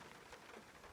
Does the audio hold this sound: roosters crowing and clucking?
no